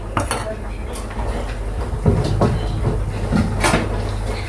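Metal clatter of a lid set onto a cooking pot of dried sola vegetable curry, with several sharp clinks and knocks over a steady low kitchen hum.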